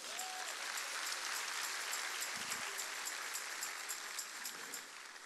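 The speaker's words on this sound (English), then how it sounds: "I think we can clap to that." An audience at a church gathering gives sustained applause, heard at a distance as a steady wash of clapping that fades slightly toward the end.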